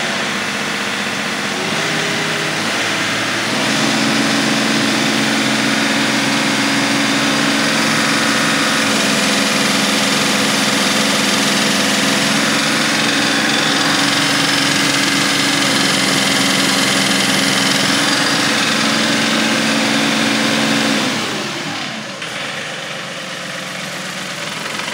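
A John Deere 2038R compact tractor engine starts and throttles up, then holds a steady, loud, close drone with a strong low hum for about twenty seconds before dropping back to a lower idle.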